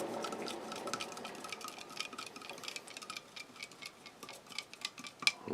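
Spoon stirring a high-sugar energy drink mixture in a glass, giving a fairly quiet run of rapid, irregular clinks and taps with one sharper knock near the end.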